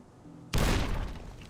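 A grenade blast in Fallout New Vegas, a single sudden loud explosion erupting out of quiet background hum and rumbling away as it slowly decays.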